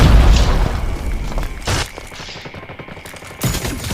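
AK47 gunfire in Call of Duty Mobile, rapid loud bursts of automatic shots close up, with a heavy boom and further volleys after a brief lull.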